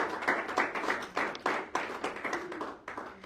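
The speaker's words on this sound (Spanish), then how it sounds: "Dele un fuerte aplauso al Señor, hermano." A church congregation claps for the Lord, with strong, rhythmic, roughly unison clapping in regular beats, close and lively.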